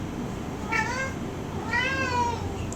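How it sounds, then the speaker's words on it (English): A pet cat named Yoshi meows twice close by, a short cry followed by a longer drawn-out one, over a faint steady room hum. "Yes, look, that's my cat."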